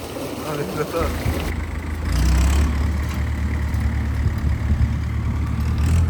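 A farm tractor engine runs steadily nearby with a low, even rumble that swells slightly louder after the first two seconds, with people talking over it.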